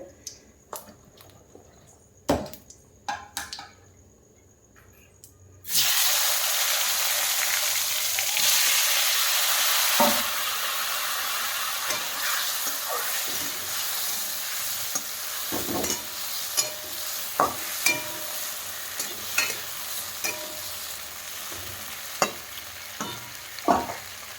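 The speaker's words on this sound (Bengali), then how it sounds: "এখন ওই বেগুন আর শিমলা মির্চিটা দিয়ে দেবো তেলের উপরে" Eggplant and capsicum hit hot oil with a sudden loud sizzle after a few quiet clicks, then fry in a steady close hiss broken by repeated sharp spatula scrapes and taps.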